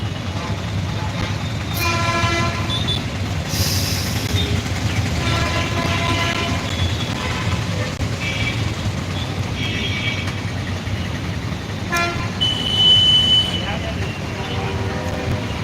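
Auto rickshaws crowd a busy road, with several short horn toots standing out against a steady, loud traffic roar throughout.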